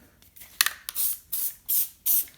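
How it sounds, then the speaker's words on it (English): Spray adhesive hisses onto foil being applied to a ski boot liner, first a couple of short bursts, then three steady, evenly spaced sprays, close and fairly loud. "a little bit of spray"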